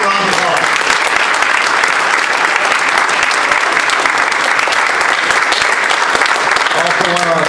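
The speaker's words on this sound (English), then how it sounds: "So let's give a round of applause." Sustained audience applause at a university event, a dense, loud wash of many hands clapping steadily throughout, with a voice faintly audible at the start and end.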